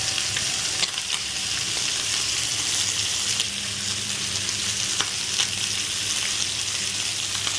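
Fish frying in hot oil for a Tamil fish fry, a steady dense sizzle with soft crackles and occasional pops, close and continuous with no talking.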